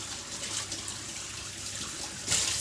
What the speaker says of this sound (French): il n'y a plus qu'à le rincer un petit peu sous l'eau avant de mettre la préparation